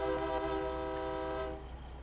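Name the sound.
truck train horn in video game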